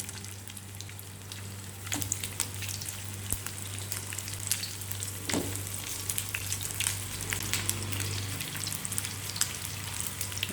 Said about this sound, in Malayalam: അപ്പോൾ നമ്മൾ ആ സ്ലൈസ് ചെയ്ത് വെച്ച ബീഫ് നമുക്കൊന്ന് റോസ്റ്റ് ചെയ്തെടുക്കണം.